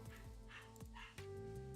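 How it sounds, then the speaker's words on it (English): Several dogs bark indoors, with a small dog's high yaps mixed in, a few sharp bursts over a steady background hum, mid-distance and fairly faint. "Sorry if you guys can hear my dogs barking."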